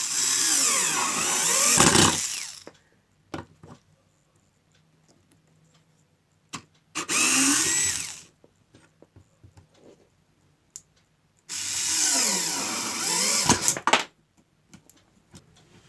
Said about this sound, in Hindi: इस वाले स्क्रू को मैं डायरेक्ट वुड पे ऐसे लगाऊंगा